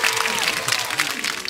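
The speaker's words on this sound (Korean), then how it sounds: "저희 부장님 다 박수 하나로 맞이하겠습니다." A small group at a used-car dealership claps continuously to welcome a staff member, a dense patter of applause with voices mixed underneath.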